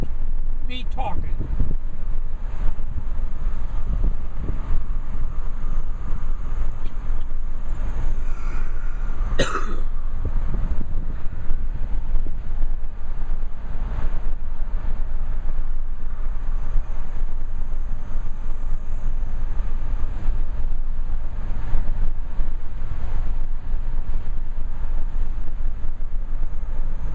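Car driving with steady wind buffeting the microphone of a Kodak Zi8 camcorder, a constant low rumble throughout with a brief louder gust or bump near the middle and no talking.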